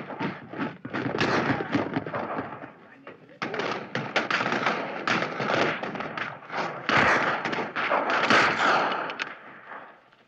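Rifle volleys from a battle scene in the film Zulu, with dense, loud, rapid cracks and bursts rolling almost continuously, mixed with shouting voices and crowd noise.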